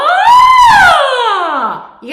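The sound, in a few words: voice imitating a siren, singing warm-up exercise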